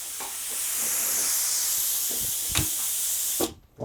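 Compressed air hisses steadily through a plasma cutter set to 25 psi, a loud continuous broadband rush with a few brief knocks, cutting off abruptly near the end.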